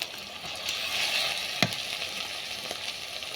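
Onion paste and chopped tomato frying in oil for a Bengali fish curry, a continuous near sizzle with occasional sharp clicks of a spatula against the pan.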